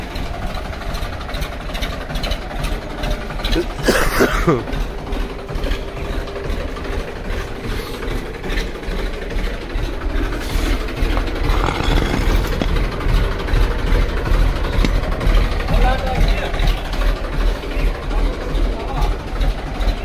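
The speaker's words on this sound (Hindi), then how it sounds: "कर लिया ट्रैक्टर का स्टार्ट" A tractor engine idles after starting, a steady low rumble running throughout, with people talking over it.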